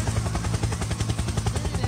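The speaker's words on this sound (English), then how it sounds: "Helicopter, helicopter." A steady, rhythmic Roblox helicopter rotor chop with a low engine drone, close and continuous.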